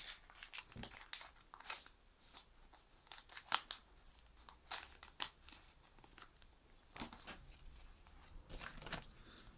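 A Pokémon card booster pack being opened: soft, quiet crinkling and tearing of the foil wrapper in irregular bursts, close up, with a few sharper crackles and no talking.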